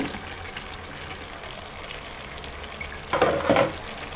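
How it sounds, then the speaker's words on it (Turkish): Potatoes are tipped into tomato paste fried in butter in a pot for a chicken and potato stew, and a sharp burst of sizzling rises over the steady low frying hiss. "Şimdi patateslerimi ilave ediyorum."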